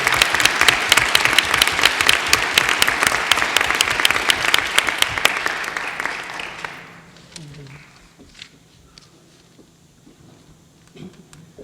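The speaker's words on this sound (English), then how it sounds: "can we have another round of applause for those brave students?" An audience claps loudly for a group of students at a school board meeting, a dense burst of applause that fades out after about seven seconds, leaving a quiet room with a few faint noises.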